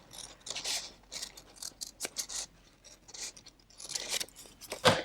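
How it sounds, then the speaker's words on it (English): Scissors cut along a line through a paper envelope, a series of close, crisp snips and rasping slides with short pauses between cuts, fairly quiet. "When I can figure out how to hold my scissors, I'm just going to cut along this line"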